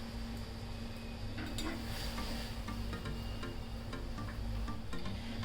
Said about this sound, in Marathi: ही चहाची पावडर आहे ना एक मिनिटभर चांगली पाण्यामध्ये ना उकळून घ्यायची आहे